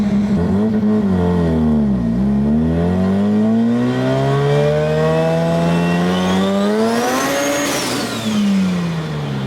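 A boosted rotary-engine Suzuki Samurai pulls hard under load, its smooth, high-pitched engine note climbing and dipping then rising steadily in a loud, continuous run that sounds close.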